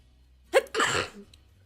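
A single close, loud sneeze with a sharp intake and explosive burst, followed by a brief exhale, in an otherwise quiet room.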